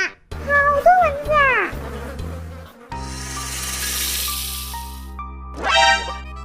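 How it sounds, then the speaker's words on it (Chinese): Cartoon mosquitoes in a rainforest in the Mini World video game make a buzzing whine over a steady background music bed, with a brief whoosh and a few high swoops. "好多蚊子"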